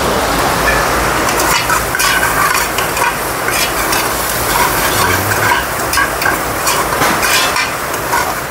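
Bay leaves sizzle loudly in hot oil in a tadka pan, with steady frying crackle and a spoon stirring and scraping throughout.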